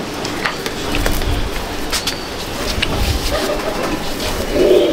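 Racing pigeons of a Day Night bloodline in a loft at Kestopur give soft, repeated cooing over a busy background of rustling and light knocks, with a fuller burst of coos at the end.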